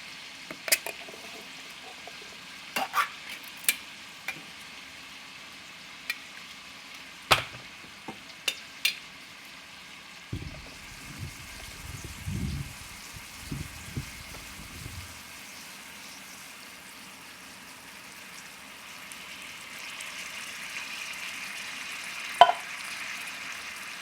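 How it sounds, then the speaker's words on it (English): Tomato sauce poured and stirred into American goulash in a pan, with a soft sizzle and scattered spoon scrapes and clinks, then a brief thicker burst of stirring noise midway, fairly quiet and without talk. "Next, I'm going to come in with my tomato sauce."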